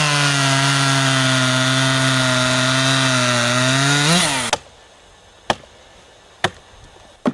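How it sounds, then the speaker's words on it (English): A chainsaw roars steadily while cross-cutting grid lines into timber during traditional wooden boatbuilding for several seconds, then cuts off abruptly, followed by three sharp, separate knocks. "The craftsman uses a chainsaw to make cross-cutting grid lines"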